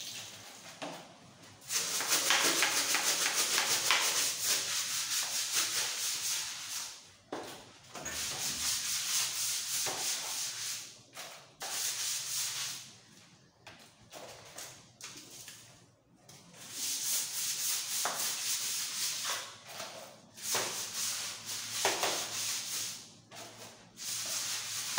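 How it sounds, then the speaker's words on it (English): A brush scrubbing a dirty shower floor, long rough rasping strokes in repeated bursts separated by short pauses, loud and close. "I'm going to scrub the floor with a brush because the floor there is more dirt than the wall."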